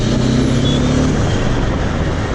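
A Triumph Street Triple S motorcycle rides past on the road to Lonavala, a loud, steady engine roar that fills the whole moment and slowly eases off, with no voices.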